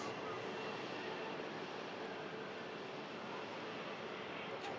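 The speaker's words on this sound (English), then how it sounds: "As the Virgin Atlantic 350 carries out a pre-flight hydraulic check." A Virgin Atlantic Airbus A350 at Manchester Airport runs its pre-flight hydraulic check, heard as a steady, loud broadband roar of engine and airport noise with a faint high whine that holds evenly throughout.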